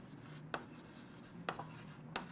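Writing by hand close up during a physics lesson, a few quick pen strokes on paper with faint scratching between them, quiet and alone without talk.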